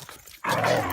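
Dogs snarl and bark in a play fight on a hike, a sudden loud burst of close growling and yapping after a quiet moment.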